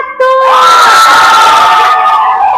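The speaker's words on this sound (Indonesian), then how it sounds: "Kita beri aplaus dulu untuk kelompok 1." A classroom audience at a university teacher-training session cheers and shouts loudly for group 1, a dense, sustained roar of young voices that holds steady to the end.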